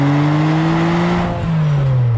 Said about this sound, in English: Is there anything better than a Ferrari V12 engine, Stu?